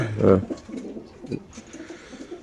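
Caged racing pigeons with club leg rings coo close by, one loud throaty call at the start followed by softer murmuring coos, with a voice talking faintly among them.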